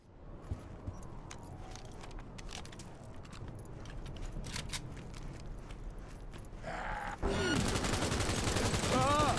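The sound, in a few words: submachine gun fire in video game Cyberpunk 2077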